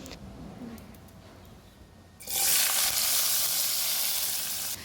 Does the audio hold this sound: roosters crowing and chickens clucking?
no